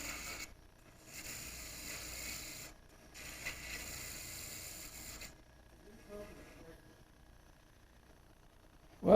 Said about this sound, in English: so I'm doing a little bit of scraping and a little bit of slicing